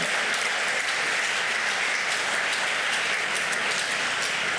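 A steady, even round of audience applause at a substance use and addiction summit, fairly loud and unbroken throughout with no talking over it.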